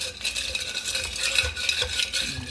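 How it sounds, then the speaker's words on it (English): A spoon stirs homemade lemon soda pop in a glass, making close, continuous swirling and clinking scrapes with fizzy hiss at a moderate level, and no one speaks. "Stir this up pretty good."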